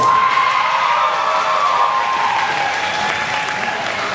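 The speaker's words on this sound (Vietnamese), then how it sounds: "let's give another round of applause for all 20 girls" Loud, sustained applause from a crowd, steady clapping filling the whole stretch with a few faint cheers mixed in.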